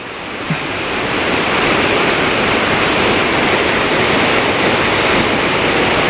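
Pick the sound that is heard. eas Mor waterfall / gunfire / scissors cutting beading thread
eas Mor waterfall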